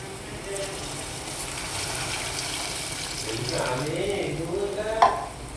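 Ingredients fry in a pan for an egg-free ukkeru, giving a continuous moderate sizzle. A voice talks briefly partway through, and a sharp utensil clink comes near the end.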